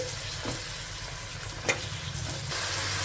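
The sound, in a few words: tomato pieces and ginger garlic paste frying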